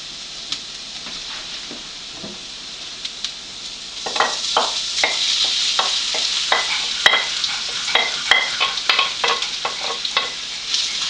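Sausage, pepperoni and onions sizzle in a pan over low heat, a soft steady hiss at first, then repeated scraping stir strokes and clinks near at hand, with no talking.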